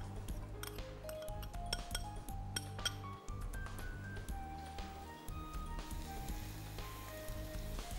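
Chopped onion fries in hot soybean oil in a pan with a steady soft sizzle, broken by light clinks of a utensil against cookware, close up.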